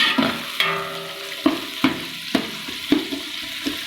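Onions sizzle steadily in a hot pan, browning for chicken biryani, while a spatula scrapes and taps rhythmically against the metal every half second or so, close and clear.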